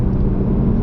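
A high-performance sports car's engine fills the cabin with a loud, steady low rumble, heard from inside while driving, with no voices over it.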